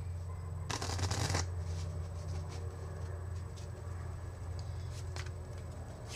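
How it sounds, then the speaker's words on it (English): A deck of playing cards is riffle-shuffled during a rubber band card trick: one brisk, crisp burst of fluttering cards lasting under a second, then quiet handling over a low steady room hum. "you can shuffle the deck if you want"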